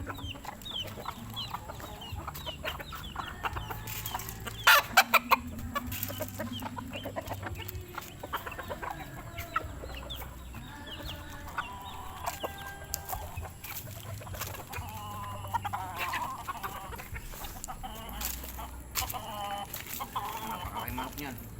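Chickens being fed cluck softly and intermittently nearby, with scattered bird calls and occasional quiet talk in the background.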